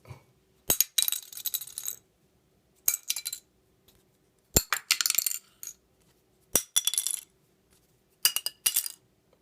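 Several bursts of D'Addario Duragrip guitar picks clattering and clinking against a sink, separated by short silences, close and bright.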